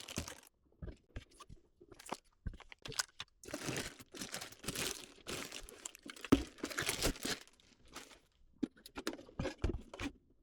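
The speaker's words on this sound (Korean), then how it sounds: "비닐을 벗기니" Plastic wrapping is peeled off a new Bandai gacha machine toy, giving close, irregular crinkles and crackling tears in short bursts with brief pauses.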